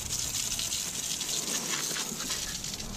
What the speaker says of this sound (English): So they want you to rinse thoroughly the wheel because they don't really want chemicals sitting on it.